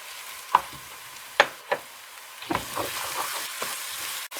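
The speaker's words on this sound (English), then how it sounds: "saute this garlic you set it aside" Garlic sautéing in a hot pan, a soft continuous sizzle broken by several sharp clinks and scrapes of a utensil against the pan, with no talk.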